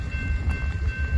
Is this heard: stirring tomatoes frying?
no